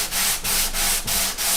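Ebony being sanded with 150 or 180 grit sandpaper while building an acoustic guitar, heard as four loud, steady back-and-forth rubbing strokes with brief pauses between them, close up with no talking.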